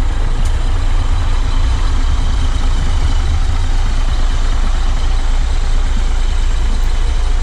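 A Hino-chassis Jetbus CP3 executive bus with 28 seats idles at the Jati Kudus terminal, its engine giving a loud, steady diesel rumble close by with no break and no voices.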